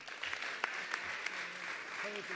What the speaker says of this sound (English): Let's give Nemo a round of applause.